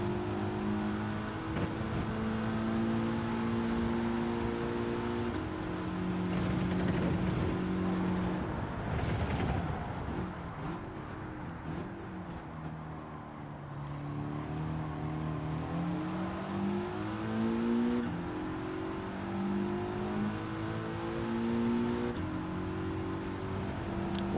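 A race car engine in Gran Turismo 7 during a GTWS Manufacturers Cup race at Sydney, droning loud and steady as revs climb and fall through gear changes, with no talk.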